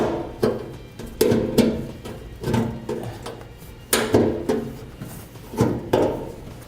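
Tin snips chop through a metal heat shield under a 2015 GMC Sierra 3500 pickup in a series of about nine sharp crunching cuts, each a loud close snap with a short metallic tail, spaced roughly evenly.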